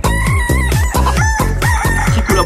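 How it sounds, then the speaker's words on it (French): A hen clucks loudly and close up in a quick repeated rhythm, with about eight drawn-out squawking calls in a row and no talk over them. "Comment endormir une poule qui n'arrête pas de chanter?"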